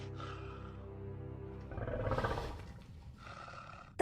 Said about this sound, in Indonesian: Terdengar geraman pelan dari seekor serigala.